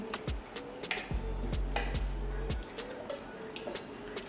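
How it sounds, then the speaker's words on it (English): Chicken marinade with lemon and cilantro-lime flavors poured over chicken, a wet, gurgling splash with scattered drips and clicks against a container, close and moderately loud, without talking. "Now you gotta add your marinade."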